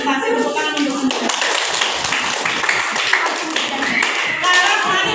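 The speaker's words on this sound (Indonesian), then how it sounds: "Semua kelompok presentasi tepuk tangan untuk semua." A school class claps hands together after group presentations in a religious education lesson, a brief dense burst of close clapping with voices mixed in.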